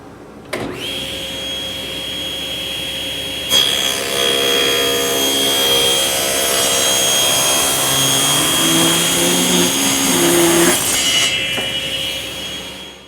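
Table saw cutting bathroom vanity panels to final size against the fence: motor spins up to a loud steady whine, the blade bites the panel for several seconds, then winds down, with no talking.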